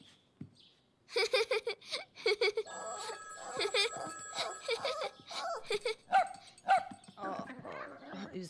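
A small cartoon dog yips and barks excitedly while a telephone rings repeatedly, with people talking over it in a family home scene.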